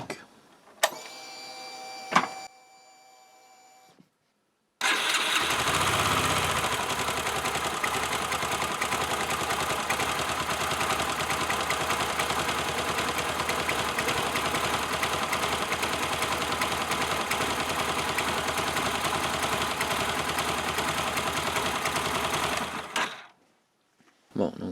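A Yamaha YBR 125 motorcycle is started after a brief mechanical clatter and a short pause, then its engine idles in a steady, loud, unbroken drone for nearly twenty seconds before cutting off.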